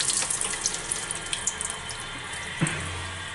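A handheld shower head in a bathroom runs water, giving a close, steady hissing spray with a few small splashes and a brief knock near the end.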